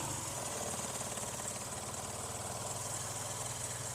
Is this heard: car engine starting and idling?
yes